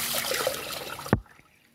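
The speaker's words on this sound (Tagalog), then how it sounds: "Saka ko to lalagyan ng tubig ngayon." Water pours into rice in a cooking pot, a close continuous splashing trickle that ends with a short sharp splash and then near silence.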